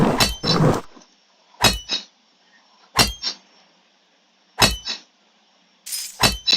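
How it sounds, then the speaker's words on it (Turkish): Diamonds being broken in the mobile game PK XD: sharp glassy clinks and shattering bursts recurring about every one and a half seconds, each strike followed by a softer echoing chime, loud and close over near silence. "çok zor elmas kırmak"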